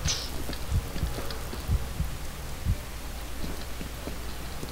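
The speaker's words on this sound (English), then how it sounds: "Heartbeat." Heartbeat effect in the video game F.E.A.R.: Extraction Point: low, muffled thumps pulse about once per second, repeating evenly over a steady hiss.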